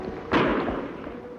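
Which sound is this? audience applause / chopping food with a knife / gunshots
gunshots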